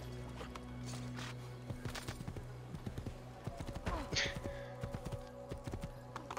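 Horse hooves clip-clop at a steady walking pace in Assassin's Creed II, sounding fairly close over a low ambient game soundtrack, with a brief neigh-like call partway through.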